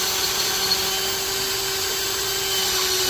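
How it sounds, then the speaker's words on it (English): A power drill runs steadily as it bores through a piece of angle iron, giving a continuous whine with a low hum under it, close and unbroken for a few seconds. "and we drill."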